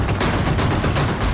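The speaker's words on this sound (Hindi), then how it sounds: "स्वागत में कारों का काफिला पहुंचा तो जमकर आतिशबाजी हुई" Fireworks burst in a rapid, crackling string at a street celebration outside a jail in Kanpur, where a convoy of cars welcomed a released accused; loud, dense popping reports follow one another without pause.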